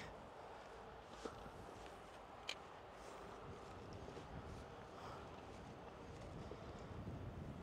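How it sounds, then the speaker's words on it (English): Low, steady wind rumble buffeting the microphone outdoors by a river while fishing, a couple of faint knocks near the start, building slightly toward the end. "it's windy"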